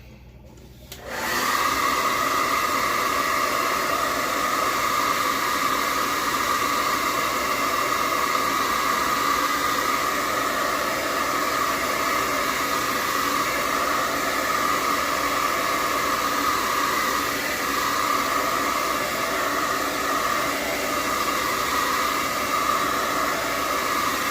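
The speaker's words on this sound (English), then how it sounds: "I'm going to use my dryer on this so I can dry that well." A hair dryer blows a steady, loud whoosh for over twenty seconds, drying a watercolor painting of an old, gnarly tree, with no other sound over it.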